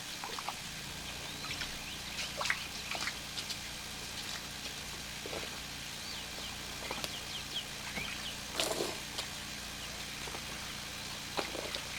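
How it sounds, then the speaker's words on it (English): A steady, faint trickle of water flowing through an aquaponics grow bed system runs continuously, with small splashes and occasional high chirps over a low background hum. "But we do have water flowing."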